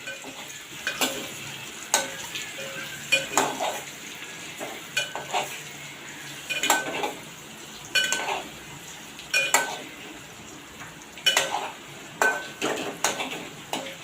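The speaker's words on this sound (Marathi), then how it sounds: "फ्राय करून घेणार आहोत" Frying in a pan for egg masala curry, a low sizzle broken by regular sharp clinks and scrapes of a spoon stirring against the metal, steady and close.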